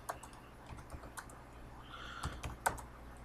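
Numbers are typed into a spreadsheet on a computer keyboard: a close, irregular run of light key clicks with short pauses and a few sharper taps, no talking.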